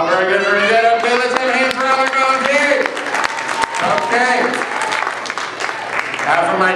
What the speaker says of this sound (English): clap your hands twice.